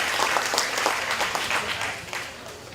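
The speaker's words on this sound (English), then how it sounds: "So let's give Hannah a round of applause too." An audience at a 2022 Washington County Fair hog show breaks into a short burst of dense applause that fades away after a few seconds.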